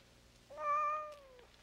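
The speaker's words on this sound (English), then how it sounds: "I got all these cats." A single cat meows once, a clear drawn-out rising and falling call, close and alone against a quiet background.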